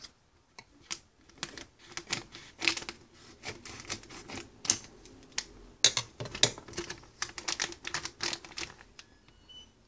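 Scissors cutting through a packet for a Popin' Cookin' candy kit, heard as a close run of sharp, irregular snips and crinkly scratches over about ten seconds, with no talking.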